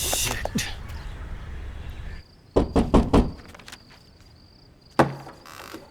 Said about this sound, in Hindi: कन्हई, मैंने तुम्हें कितनी बार कहा है कि खटखटाए मत